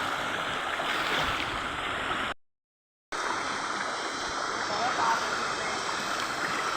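A fast, high river current during shrimp hunting among tree roots gives a dense, steady roar of rushing water, loud and close. The roar breaks off briefly midway, then returns just as strong.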